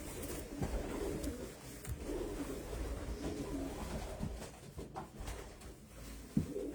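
Racing pigeons in a loft, including late-bred young birds, coo steadily in low, overlapping murmurs throughout, with a faint knock near the end.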